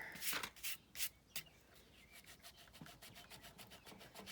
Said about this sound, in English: This is a mono sand eraser by Tombow, and it's an ink eraser